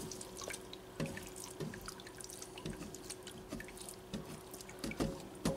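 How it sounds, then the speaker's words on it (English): Whey trickles and drips steadily from draining cheese, with irregular soft drops and splashes over a faint background hum. "I can still hear some water draining out, or liquid, the milk"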